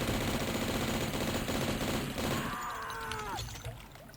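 Rapid, dense gunfire from hitscan enemies in the game Bloody Pulp Fiction rattles loudly for a few seconds, then cuts away to quieter background sounds with a brief whistling tone.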